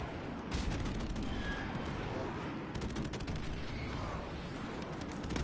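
Bursts of automatic gunfire crackle continuously through a video game scene, rapid overlapping shots and distant booms forming a dense, noisy barrage at moderate distance.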